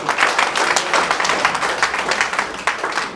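Dense applause from a seated audience at a business success meeting, steady and close, with many hands clapping at once throughout.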